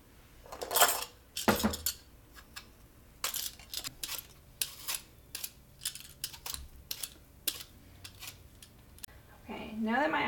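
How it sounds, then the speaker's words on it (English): Apples being peeled in a home kitchen while making apple strudel: a series of short, crisp scraping strokes come in irregular bursts, close and fairly clear, with a brief voice-like sound near the end. "I'm going to start peeling my apples."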